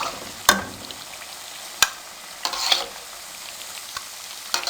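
Sweet jaggery pakoras sizzle in hot oil, a steady fry hiss punctuated by a few sharp clinks of a utensil against the pan as they are turned and lifted.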